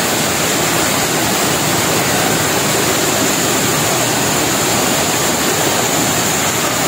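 Kilangin Falls in Liliw, Laguna pours down in a steady, loud, close roar of falling water, a dense unbroken wash with no pauses and no voices.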